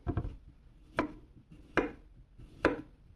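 Firebird FH924-GY grey folding knife slicing through a cucumber, four crisp chopping cuts striking a board at roughly even intervals, close and clear with no talk.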